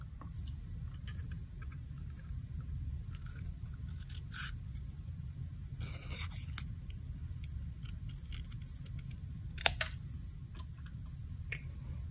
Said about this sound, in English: So we're just cutting out this little corner.